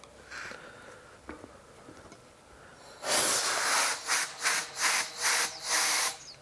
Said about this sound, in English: compressor on